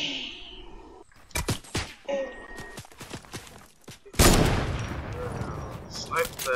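Video game gunfire: sharp separate shots crack out in an irregular string, then a loud sustained burst of rapid fire takes over and tails off, with some quieter thumps between.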